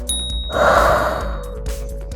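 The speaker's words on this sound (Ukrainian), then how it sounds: "Видихаємо." A long, breathy exhale during a stretching exercise rises in the middle of a steady background hum and then fades away. The breath is close and clear, and no words are spoken.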